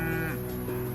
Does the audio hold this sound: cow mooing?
yes